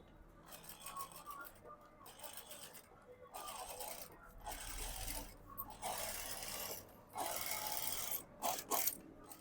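A sewing machine stitches the lining of an embroidered blouse in a run of rapid mechanical bursts with short pauses between them, heard close and with no talking.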